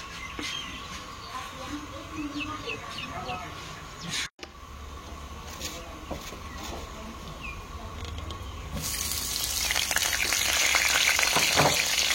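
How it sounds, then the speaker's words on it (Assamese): Onions fry in a wok for a traditional Assamese Bihu dish, with a crackling sizzle that swells louder toward the end, with faint chatter and clatter in the background. "আকৌ আপোনাৰ কেৰাহী পাতি পিঁয়াজ ভাজি আছোঁ"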